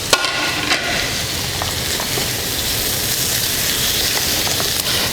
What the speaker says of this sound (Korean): 버섯, 토마토 같이 한꺼번에 넣어서 볶아줄 겁니다.